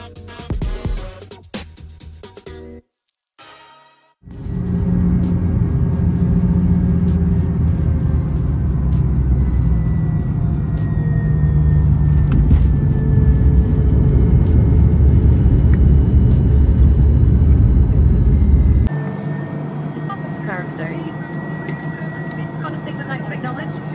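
Aircraft approaching over the Pilbara Mountains and landing on the long runway at Paraburdu Airport, a steady loud low rumble of engine and cabin noise that holds for most of the stretch before easing slightly near the end.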